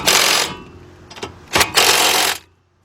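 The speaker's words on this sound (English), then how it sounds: "I'm going to be using my impact right here, 17mm 3/8 drive" Air impact wrench on a 3/8 drive with a 17mm socket tightening two bolts on a front strut assembly of a 2010 Honda Accord 2.4, giving a loud rattling burst, a brief stutter, then a second longer hammering run.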